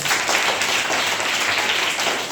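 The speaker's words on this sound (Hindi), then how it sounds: "शाबाश, ताली बजाइए।" Children in a Hindi-language classroom clap together in steady, loud, continuous applause, with no talking over it.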